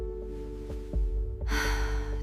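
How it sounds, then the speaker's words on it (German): One person takes a deep breath in, a sudden, breathy rush of air that starts after a quiet pause and holds for about a second. "Atmen Sie ganz tief ein."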